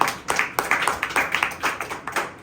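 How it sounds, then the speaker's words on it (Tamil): Clapping hands from a church congregation at a Tamil Christian sermon, a loose run of sharp claps in an uneven rhythm, fairly close and moderately loud with no voices over it. "கைத்தட்டி ஆண்டவரை மகிழ்ச்சிப்படுத்தும்."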